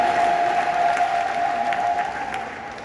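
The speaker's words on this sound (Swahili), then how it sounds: "Hebu makofi kwa ajili ya" Steady applause from a church congregation at a combined-churches service, a dense wash of clapping that holds for about three seconds and softens slightly toward the end.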